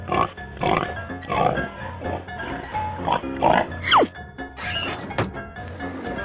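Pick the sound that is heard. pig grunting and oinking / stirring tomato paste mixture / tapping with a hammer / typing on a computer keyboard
pig grunting and oinking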